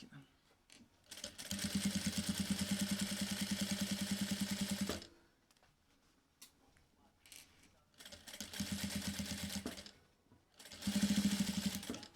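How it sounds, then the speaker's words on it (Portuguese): A sewing machine stitches a fabric glasses case, close and steady, in three runs of rapid mechanical chatter of a few seconds each, separated by quieter handling pauses. "E aí eu vou fazer uma costura aqui para fechar essa peça."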